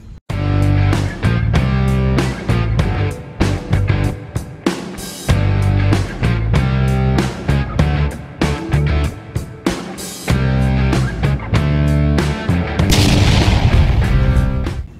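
Aloo bomb firecrackers go off in rapid, loud bangs during Diwali, the booms close and overlapping in a near-continuous barrage broken by a few short gaps.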